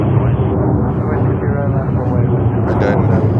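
Airliners take off at JFK airport in New York, heard as a broad, steady jet roar that holds at a loud level throughout.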